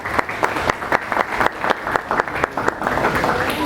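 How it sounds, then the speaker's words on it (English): Audience applause at an academic session on blockchain-based medical records, a steady burst of clapping from a room of listeners that carries on for several seconds without fading. "Give a hand of applause everyone."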